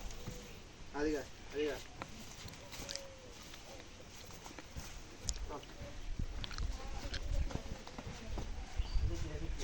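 Hooves clop along at an uneven walking pace on hard ground, fairly quiet, with faint background noise and occasional other sounds.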